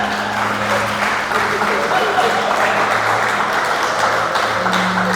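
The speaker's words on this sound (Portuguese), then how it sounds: "Será que você pode aplaudir o Senhor?" A church congregation applauding during a service, a dense sustained clapping filling the room at steady volume, with someone speaking over it.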